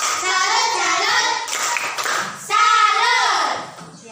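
Primary school children in a classroom chant together while doing a rhythmic patterned clapping cheer, sung voices dominating with claps punctuating the chant in two bursts separated by a short pause.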